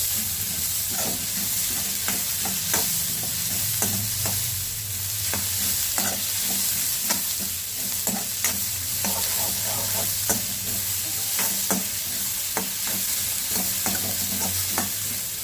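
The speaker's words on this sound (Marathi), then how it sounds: "कांदा मी जरा गोल्डन होईपर्यंत भाजून घेतलेला आहे तेलामध्ये।" Onions and peas fry in hot oil in a pan, a steady close sizzle broken by regular scraping clicks of a spoon stirring throughout.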